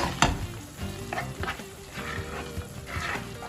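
Chicken sizzles and crackles frying in a hot pan as a utensil stirs it, scraping and clattering in short bursts, close by with no voices.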